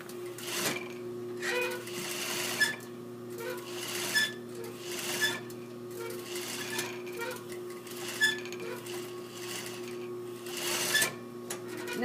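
Sewing machine stay stitching along a fabric edge, running in short steady bursts with a rhythmic needle clatter and motor hum, stopping and restarting several times, at moderate volume close by.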